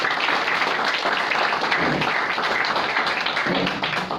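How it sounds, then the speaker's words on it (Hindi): A live audience at a team-work talk claps and cheers in a loud, continuous burst of applause that fills the room steadily for several seconds without pause. "जोरदार ताली आप सभी"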